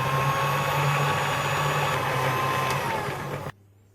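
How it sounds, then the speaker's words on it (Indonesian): An electric hand mixer beats flour into dough for Indonesian snow white cookies, a steady close motor whir with a low hum, running continuously before cutting off abruptly near the end. "masukkan lagi sisa dari tepung terigu tadi dan kemudian diaduk dengan mixer"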